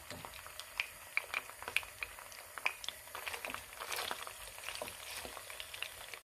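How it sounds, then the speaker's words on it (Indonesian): Beef frying in hot oil for coconut-water beef dendeng, a steady sizzle with scattered pops and crackles and the occasional scrape of stirring, close up and fairly quiet. "Setelah minyak panas, kita akan mulai menggoreng daging"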